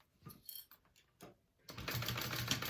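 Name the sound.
sewing machine stitching through fabric layers of a tote bag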